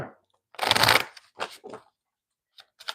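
Tarot cards drawn and handled in a quick burst of shuffling, followed by a few shorter riffling snaps and soft taps, close and fairly quiet with no talk.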